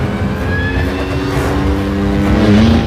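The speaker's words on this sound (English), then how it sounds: "There's no speedometer, so I do it by sound and feel of the bike." Motorcycle engine held at steady high speed during a stunt run-up for a Mission: Impossible – Dead Reckoning bike jump; a loud, continuous droning whine that climbs slightly in pitch toward the end, with no voices.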